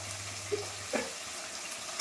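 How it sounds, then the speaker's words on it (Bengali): Spice paste of garlic paste, cumin, turmeric and chilli powder frying in a pan, a soft sizzle broken by a few light scraping stirs. "মশলাটাকে নেড়ে নেবো। মশলাটাকে আমি একটু ভালো করে কষিয়ে নিই।"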